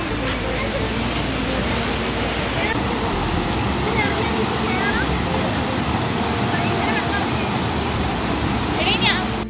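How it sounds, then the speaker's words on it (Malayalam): Rushing water roars as a loud, constant wash of noise throughout, close and unbroken, with faint higher sounds flickering above it. "നിങ്ങക്ക് വെള്ളത്തിന്റെ ശബ്ദം കേൾക്കുന്നുണ്ടോ?"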